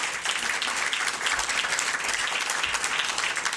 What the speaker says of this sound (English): So give yourselves a round of applause for being here this evening.